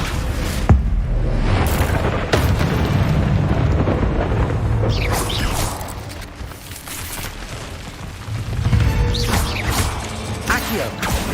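Descendo spell in Hogwarts Legacy slamming a target down, a heavy crashing impact amid dense rumbling magical effects and booms, loud and close, mixed with other spell blasts throughout.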